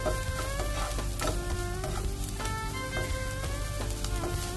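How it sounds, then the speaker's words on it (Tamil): Vegetables sauté in a pan for a chicken broccoli salad, with a steady sizzle and occasional stirring scrapes, close up under a constant background of tonal humming. "பச்சை வாசனை போற வரைக்கும் வதக்கிட்டு"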